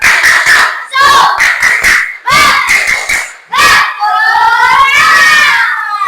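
A classroom of students claps in unison on command, loud rhythmic bursts of spirited patterned clapping with shouted chanting, ending in a sustained burst of cheering voices.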